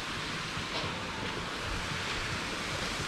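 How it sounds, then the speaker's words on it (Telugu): Continuous broadband rush of a natural waterfall at a scenic park in Ninh Binh, Vietnam, steady and fairly loud, with no voices over it. "అదేమో న్యాచురల్ వాటర్ ఫాల్"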